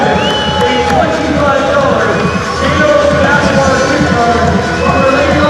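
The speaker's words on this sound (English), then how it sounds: "This River Lions crowd, one of the loudest crowds I've heard here all season" A loud basketball arena crowd roars and cheers continuously at close range, with whistles and shouts over the din and a commentator's voice running through it.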